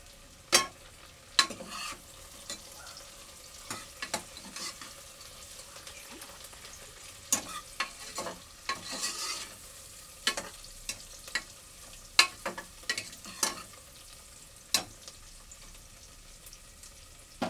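Mint and spices fried in oil for a head-meat curry, with a spoon scraping the pan in a sparse rhythm of sharp clicks over a soft, steady sizzle, close by and fairly quiet.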